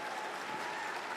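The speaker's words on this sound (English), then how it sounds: "they applauded Boris Johnson when he emerged" Applause for Boris Johnson from his team as he emerges to announce he is stepping down as Conservative party leader, a steady dense clapping filling the brief moment with no voices.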